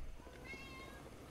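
A cat meows once in a video game, a short, faint mewing call over a soft outdoor breeze ambience with no one talking.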